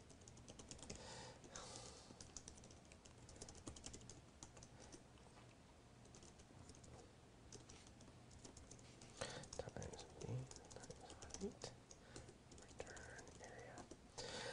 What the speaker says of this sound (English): Now I'm just going to type the function and then we're going to talk about it.